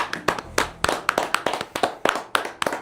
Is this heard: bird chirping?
no